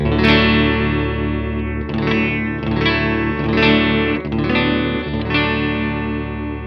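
An electric guitar plays sustained chords through an EMS Synthi Hi-Fli effects pedal, with a shimmering chorus and distortion effect, notes swelling and overlapping with a wide, echoing tail.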